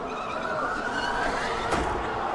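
Formula 1 car locking all four brakes and skidding off the track: a continuous, loud rushing tire scrub with engine noise and a sharp burst near the end.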